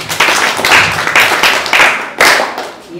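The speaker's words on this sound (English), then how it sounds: "clap for her" Audience clapping at a school health talk for girls: a close, loud group of hands clapping in uneven bursts, with no speech over it.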